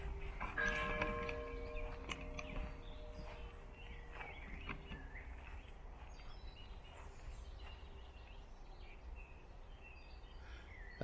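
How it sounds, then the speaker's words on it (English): A church bell strikes one o'clock at a cemetery, a single resonant ring fading slowly with a long decaying hum, moderately distant, with faint birdsong and outdoor ambience continuing afterward. "That must have been the 1 o'clock bell."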